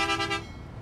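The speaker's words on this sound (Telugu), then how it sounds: "అబ్బా హార్న్ కూడా అదిరిపోయింది" A Volvo bus horn in Bus Simulator Ultima, on a Mumbai to Pune Rajadhani run, gives one loud, steady honk lasting under half a second, then cuts off into low engine rumble.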